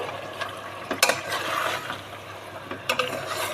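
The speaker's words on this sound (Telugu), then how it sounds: "దీంట్లో ఒక కప్పు వరకు పెరుగు వేసుకుందాం పెరుగు వేసుకొని మంచిగా ఇలా కలబెట్టేసుకోండి" Curd being stirred into chicken biryani masala in a pot, with soft scraping and a few sharper spoon knocks against the metal at close range, and no talking.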